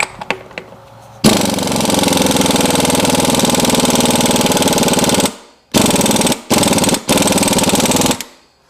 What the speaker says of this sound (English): we gotta impact that on